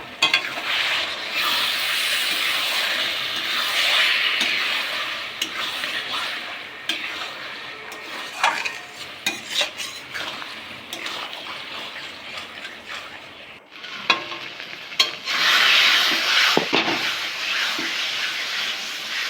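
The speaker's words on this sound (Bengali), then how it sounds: "ঢাকা তুলে এবার শাকটাকে আবার নাড়িয়ে দেবো" Taro leaves simmering with a hilsa fish head are stirred in a pan, giving a continuous close sizzle and steamy hiss. Repeated scraping stirs come and go, with a brief pause before the frying hiss swells again.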